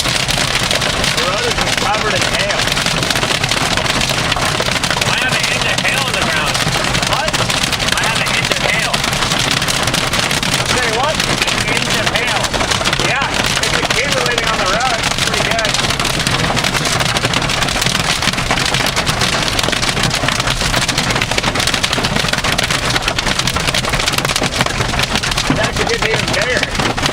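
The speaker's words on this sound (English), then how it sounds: "The road is just covered in hail." Heavy hail pounds a storm chaser's car during a tornado-threat storm on the Canadian prairies. A dense, continuous, loud drumming fills the whole stretch, with a voice speaking underneath.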